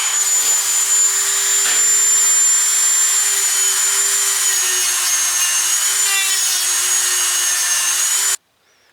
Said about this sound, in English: I'm going to take a Dremel and polish that surface a little bit just to clean it.